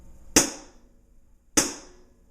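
Two sharp, evenly spaced strikes on a drum kit combining hi-hat, snare and bass drum, each a crisp close hit with a bright splashy decay, with silence between them.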